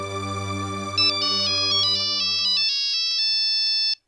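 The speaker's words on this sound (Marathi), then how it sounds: "मी फोन घेते" A phone ringtone plays loud and close, a bright electronic melody of repeating stepped notes over a sustained backing tone, ringing continuously for about four seconds before cutting off.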